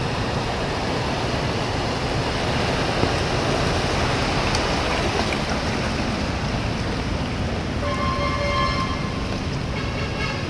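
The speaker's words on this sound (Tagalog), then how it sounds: "Umuulan pa, paano hupa to?" Heavy rain pours steadily during a deep street flood in Malate, Manila, a dense, constant wash of noise with faint tonal sounds near the end and no voices.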